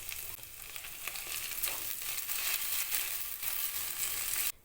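Onion fries in a pan as ginger, garlic and green chili paste goes in, producing a continuous close sizzle with scraping stirs, ending in a sudden cutoff.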